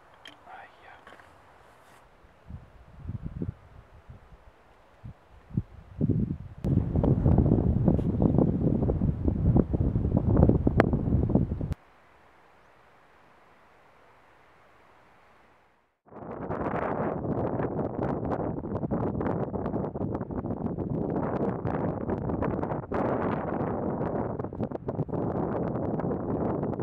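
Strong wind in the Black Forest mountains buffets the microphone in loud, rough gusts, with a quieter stretch of rustling and handling first, then a brief near-silence before another long roaring burst of wind.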